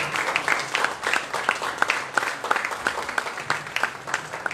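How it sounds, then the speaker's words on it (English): Audience applause at a ceremony honouring COVID-19 warriors, a steady patter of many hands clapping with sharp individual claps standing out, moderately loud and continuous throughout. "He deserves a big round of applause for him."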